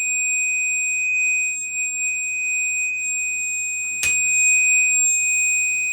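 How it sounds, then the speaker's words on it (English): Steady high test tone at 2500 Hz through a Bluetooth receiver, a constant pure pitch held for the whole stretch over a faint low hum, with a brief sharp click about two-thirds of the way in. "We'll do one more test tone at 2500 hertz."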